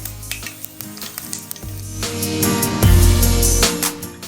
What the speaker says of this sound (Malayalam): ജീരകം ഇവിടെ കിടന്ന് പൊട്ടിക്കൊണ്ടിരിക്കുന്നുണ്ട്